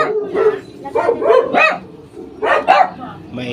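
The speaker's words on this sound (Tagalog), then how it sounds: "Ayun, nagtatahulan yung mga aso sa labas." Dogs bark outside a home in the Philippines, with several close, loud bursts of barking and yipping in an uneven rhythm that overlaps with a person talking.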